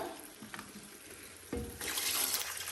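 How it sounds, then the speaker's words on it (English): Water pours from a tap into a cooking pot for soup, a steady hissing fill that swells louder partway through and keeps running to the end, with no talking. "So I'm adding water because I wanted some soup"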